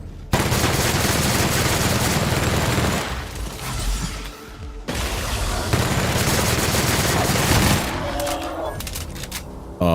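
A modified gun in The Outer Worlds fires in loud, sustained rapid bursts, with a short lull midway before the fire resumes and continues almost to the end.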